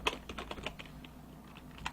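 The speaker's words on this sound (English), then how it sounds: "hopefully my typing isn't too loud" Quick, soft keyboard typing, a run of light key clicks at an uneven pace, close by and fairly quiet.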